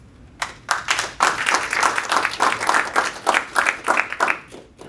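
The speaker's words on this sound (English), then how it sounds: "Was the applause for me or for?" Applause from an audience at a boutique's community educational event: a burst of clapping builds quickly and holds as rhythmic, fairly close claps before easing slightly near the end.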